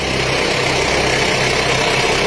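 An old pickup truck engine runs steadily up close, a loud, constant rumble with vibration and no breaks.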